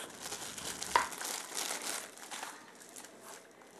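Thin plastic packaging cover crinkles as a Logitech MK220 wireless keyboard and mouse set is unboxed, a soft, close rustle with one brief sharper crackle early on, fading to quiet handling.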